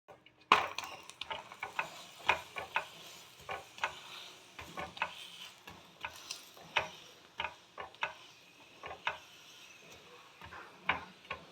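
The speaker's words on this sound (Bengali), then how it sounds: "আর একটা পরোটা দিয়ে দিলাম, এটাও এইভাবে আমি ভেজে নেব।" A vegetable paratha fries in a pan, giving a quiet, steady sizzle broken by frequent sharp taps and scrapes of a spatula and utensils against the pan throughout.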